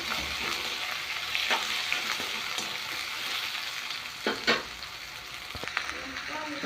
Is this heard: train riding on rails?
no